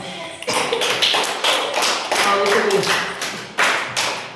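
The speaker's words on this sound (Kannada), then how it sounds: "ಹೊಡಿರೋ ಚಪ್ಪಾಳೆ" A group of people clapping, rapid uneven hand claps close by in bursts across the whole stretch, with some voices mixed in.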